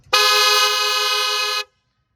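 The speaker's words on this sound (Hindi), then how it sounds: "सो मुझे सब पूछ रहे थे कि हेला का हॉर्न साउंड कैसे करता है," A single loud, bright Hella car horn blast on a Mahindra Scorpio N, lasting about a second and a half, ending abruptly into silence.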